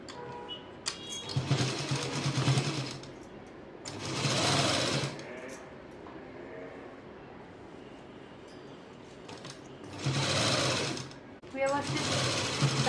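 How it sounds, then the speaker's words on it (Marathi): A sewing machine stitches a seam on a skirt in several short bursts of rapid rattling, with pauses between runs where someone speaks quietly. "आपण याच्यावरही टिप मारून घेऊया दाब टिप मारून घेऊया"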